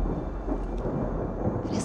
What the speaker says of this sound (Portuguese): Parece que vem uma tempestade.